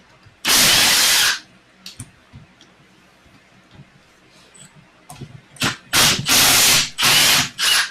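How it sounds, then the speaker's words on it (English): A power drill bores holes in a car body during a six-speed conversion build, with one long whir near the start and then several loud drilling bursts close together, separated by clicks and handling noises. "I have to drill holes in the body"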